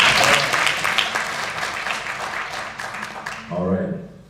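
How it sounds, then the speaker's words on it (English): An audience claps hands in a full burst of applause that slowly thins out and fades, with a voice briefly rising at the end. "Clap your hands if you are enjoying this experience"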